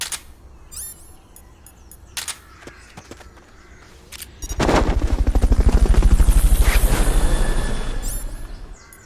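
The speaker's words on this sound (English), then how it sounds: "Fulton recovery subject confirmed onboard helicopter." Helicopter in the video game Metal Gear Solid: Peace Walker: after sparse clicks and game effects, a loud rotor roar rises suddenly with rapid thumping blades, swelling to a peak and then slowly fading.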